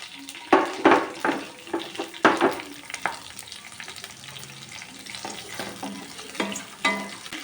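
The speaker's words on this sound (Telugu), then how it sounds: "ఆయిల్ వేడెక్కింది తాలింపు వేసేసుకున్నాం" Dried red chillies, curry leaves, seasoning spices and onions sizzle and crackle in hot oil for a snake gourd stir-fry, with close, bursty frying and the repeated scrape and clink of a spoon stirring the pan, no voices.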